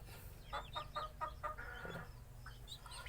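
Brahma chicks about a month old, bred from a Brahma and partridge pair, give a run of short rhythmic clucks and chirps close by, about six quick calls in a row over a low steady hum, with no talking.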